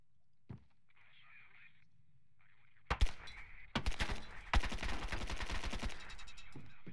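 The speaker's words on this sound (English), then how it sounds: "I'm gonna nail him in the leg with this tiny gun" A tiny gun fires in a video game, first a quiet lone shot, then a dense run of rapid cracking shots in close, loud bursts that continue to the end.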